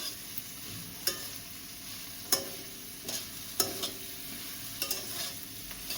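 Food sizzles quietly in a pan while a utensil stirs and scrapes it in irregular strokes, with several distinct clinks against the metal.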